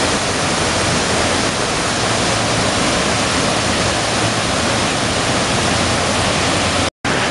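Steady, loud broadband rush of a river waterfall, continuous and unbroken with no voices, cutting off briefly near the end.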